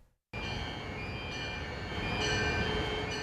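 Train noise at the New Carrollton train station, a sudden loud steady rumble of rail cars with faint high squeals and tones, continuous after a brief silent start.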